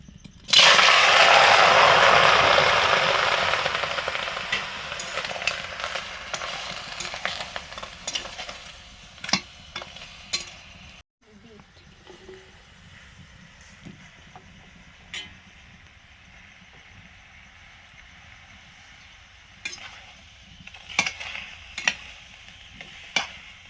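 Chopped tomatoes dropped into a hot pan for homemade tomato sauce burst into a loud sizzle that fades, followed by ongoing softer frying and intermittent scraping clicks of a spoon stirring against the pan.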